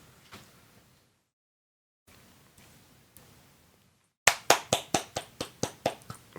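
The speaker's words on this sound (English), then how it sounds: "Applause break." A single person claps a handful of times, close and sharp, after several seconds of near silence and faint room noise.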